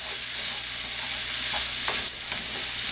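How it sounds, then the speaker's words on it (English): Garlic and carrots fry in a pan, a soft, steady sizzle broken by a few scraping stirs of the utensil, with no talking. "and the garlic, and quickly let them fry up a bit."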